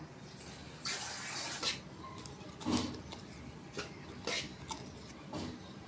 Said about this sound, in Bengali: পটলটি কেটে নিলাম, এখন ধুয়ে নেব।